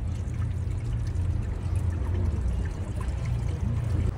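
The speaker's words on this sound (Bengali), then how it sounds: "তো চলো এখন কিন্তু জলটা এখান থেকে ভরছি আমি।" Water from a natural mountain spring in Manali's Solang Valley fills a bottle, a steady close pour and trickle over a low rumbling flow, with no talk.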